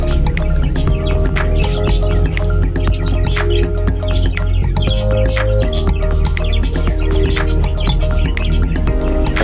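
A pair of pigeons pecks at grain in a coop among other birds. Constant chirps and tweets mix with clicking pecks and a low steady background hum, close and fairly loud throughout.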